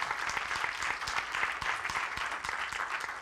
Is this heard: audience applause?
yes